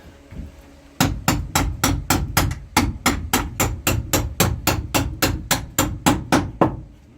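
Hammer tapping bolts into a wooden wood rack, about seventeen sharp, evenly spaced strikes in a steady rhythm, close and loud with no talk.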